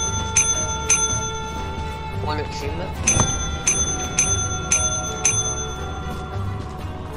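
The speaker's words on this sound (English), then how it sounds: "Ring the bell." A bell rings in the video game Lethal Company, a series of sharp metallic dings repeating at a steady pace, with people talking over it.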